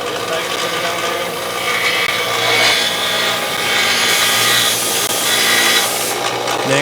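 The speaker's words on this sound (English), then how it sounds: "But I got a wire wheel on here. I think it's stainless." A bench grinder with a stainless wire wheel cleaning the threads of a bolt, a loud, steady, close whir and harsh brushing rasp that rises and falls as the metal is pressed against the wheel.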